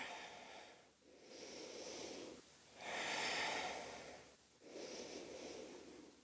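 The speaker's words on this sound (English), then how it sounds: "Breathing." Slow, deep breathing during a yoga practice session, with long audible inhales and exhales alternating in an even rhythm, close and clear with no talking.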